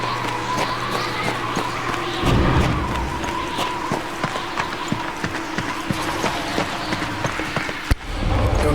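Horse hooves gallop at a fast, steady clip-clop rhythm through a game scene in Darksiders 2, loud and close, with a dense bed of ambient noise and occasional thuds.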